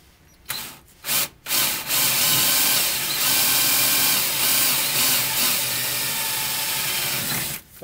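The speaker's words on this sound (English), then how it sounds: "I'll drill the second one now" A power drill with a 3/16 drill bit bores through metal while fitting Ford Transit running boards, starting with a few short bursts and then a steady, loud grinding whine that stops at the end.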